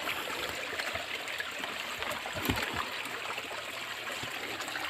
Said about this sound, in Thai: พอภูเขาอุ้มน้ำไว้เยอะๆก็จะเป็น มีน้ำไหลออกมาเนี่ยนะครับ